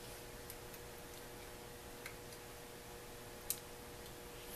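Faint, sparse pin clicks while picking a Mul-T-Lock Interactive KIK lock, a few tiny ticks over a steady low hum, with one sharper click near the end.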